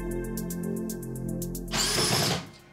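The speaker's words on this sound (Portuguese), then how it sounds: "estou a fazer é fazer um furo como guia para os parafusos que vão parafusar esta lateral" A power drill bores an angled pilot hole for screws into a shelf side: a steady whirring motor hum that rises into a loud, grinding burst as the bit bites, then trails off, with no talk.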